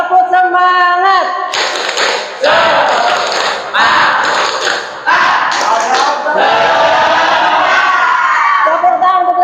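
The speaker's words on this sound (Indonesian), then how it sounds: "Tepuk semangat." A class of schoolchildren in an Indonesian classroom performs the 'tepuk semangat' spirit clap, loud patterned bursts of group clapping with shouted chants, close and energetic, with voices talking at the start and end.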